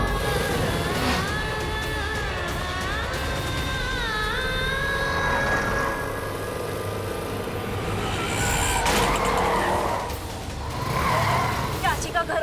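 A car swings around sharply, tires squealing and skidding over a rushing engine drone, while several voices talk over the commotion.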